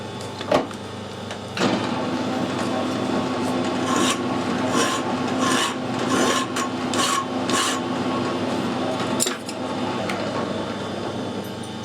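Threads are cut on an adjustable spanner part being repaired on a lathe, giving a sustained rasping, grinding scrape close by. Rhythmic strokes pulse through the middle, there is a sharp knock near the start, and no one speaks.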